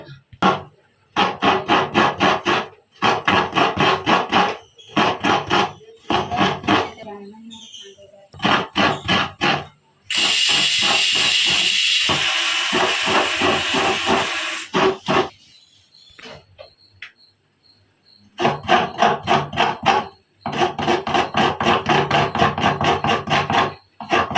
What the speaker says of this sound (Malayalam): ഒരു ലേശം തേങ്ങ അരയ്ക്കാം നമുക്ക്